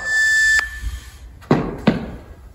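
A single steady electronic beep signals the start of a home fitness exercise, holding for about half a second before cutting off, followed by two sharp knocks or thuds.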